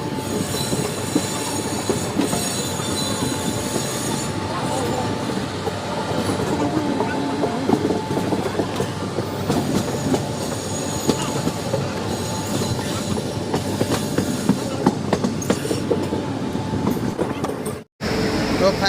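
An Indian passenger train runs on the rails between Satna and Rewa, with a steady close rumble, clattering wheels and sharp squeals of metal, and faint voices in the background.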